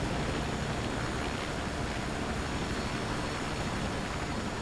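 A helicopter in the video game Conflict: Denied Ops, a steady, broad engine and rotor roar with no breaks, moderately loud and unchanging across the whole stretch.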